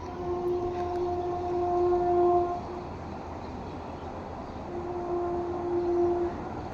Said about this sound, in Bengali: শুনতে পাচ্ছি ট্রেনের আওয়াজ ওই দেখুন বন্দে ভারত ঢুকছে